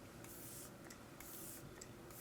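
Hourglass Veil Soft Focus setting spray hisses out in several short, quiet misting bursts at a steady rhythm, close to the face, with no talking.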